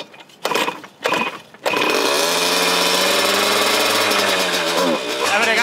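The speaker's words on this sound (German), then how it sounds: "Laufen tut er noch. Motor ist gut." Cross moped engine running after a crash that bent the frame: a few short sputtering bursts, then the engine catches and runs loud and steady, a close buzzing two-stroke drone that dips briefly near the end.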